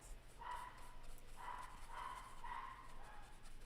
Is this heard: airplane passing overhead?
no